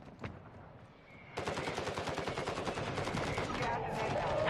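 Rapid automatic gunfire in a video game, a dense burst of sharp repeating shots that starts suddenly and carries on steadily to the end, with a few quieter single shots before it.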